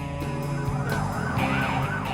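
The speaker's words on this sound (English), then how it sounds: "They hit their sirens, which is a polite way of telling him to stop" A police siren wails in rising and falling sweeps over a low engine rumble, heard from a moderate distance with no talking.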